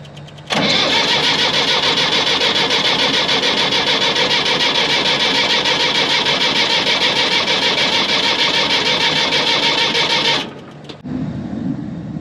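An International Harvester 270A backhoe engine cranks on a freshly charged battery, a loud continuous churning roar lasting about ten seconds before cutting off abruptly into quieter rumbling.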